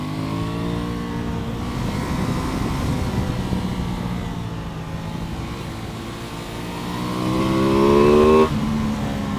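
An Aprilia Tuono 660 motorcycle engine runs near and loud, its revs climbing and falling through the gears. A strong rise peaks near the end before the throttle is cut off sharply.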